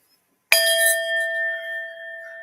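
A Tibetan singing bowl is struck once and rings out close and clear, its steady bright tones sustaining and slowly fading with no other sound.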